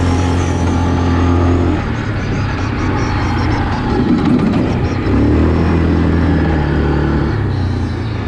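A 2020 Yamaha Kodiak 450 EPS ATV riding a bumpy trail, its engine droning steadily and close, with pitch shifting up and down as the throttle changes and a brief surge midway, no talking over it.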